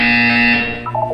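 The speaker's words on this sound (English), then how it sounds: "When you hear the buzzer, look up at the ceiling." Electronic buzzer in the Portal 2 video game, a loud sustained tone held for about half a second before fading, followed by a brief rising electronic chime, no talking.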